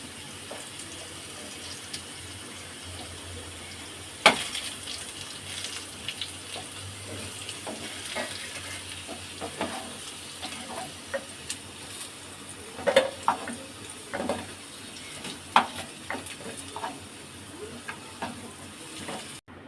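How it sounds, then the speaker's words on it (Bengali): Potatoes and prawns fry in oil in a kadai for a Bengali bottle gourd and prawn dish, giving a steady close sizzle broken by scattered sharp clinks and scrapes of stirring, with no talk. "আমার আলু আর চিংড়ি মাছ ভাজা হয়ে গেছে"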